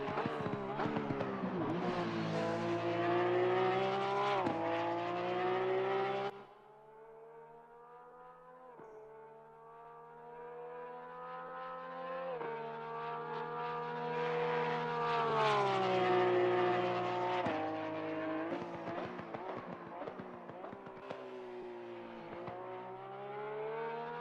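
A 2020 Porsche 911 GT3 R racing around Kyalami in Assetto Corsa Competizione, its engine a loud, sustained high-revving howl that rises and falls with repeated gear shifts and lifts, heard alone without talk.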